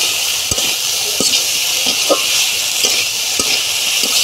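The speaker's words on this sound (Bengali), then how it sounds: "এখন আমি যে ডিমাই শাকগুলো দিয়ে দিতেছি এটা দেওয়া হয়ে গেছে এখন আমি একটু নাড়াচাড়া করে নিই" Gimai greens and brinjal are stir-fried in a pan, a steady hiss of frying with soft, irregular spatula scrapes and taps, near and fairly loud.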